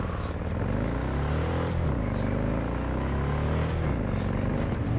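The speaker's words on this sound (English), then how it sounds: "A loud bike though." A loud motorbike engine in the video game Cyberpunk 2077 rumbles steadily, rising and falling in pitch with throttle as it rides on without a break.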